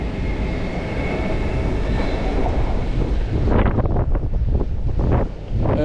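A train pulls away from Potsdam station, its steady rumble and clickety-clack close by with strong wind buffeting the microphone, the rolling rhythm of wheels becoming more distinct toward the end.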